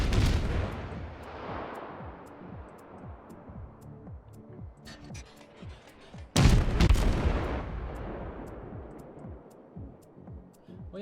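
Ship guns fire in World of Warships, a series of booming artillery shots with a sharp, louder blast near the middle, each followed by rumbling decay.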